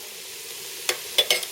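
Onions and carrots cook in olive oil in a saucepan with a soft, even sizzle, broken by three sharp spoon clacks against the pan in quick succession near the end; no one speaks.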